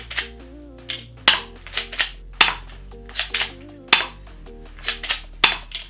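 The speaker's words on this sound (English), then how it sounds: "Now we're gonna shoot this and see how it does." A CCCP Custom 5.1 Hi-Capa spring airsoft pistol fires BBs, giving about nine crisp snapping shots at irregular intervals over soft background music.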